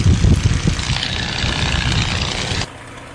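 A P-51 Mustang's propeller engine idles steadily while warming up before takeoff, a loud, close, rumbling drone with uneven low pulses that drops off sharply near the end.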